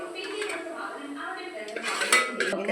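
A utensil scoops fried onions out of a cooking pan for egg biryani. Metal clinks and scrapes against the pan come in irregular bursts over a steady background of cooking noise.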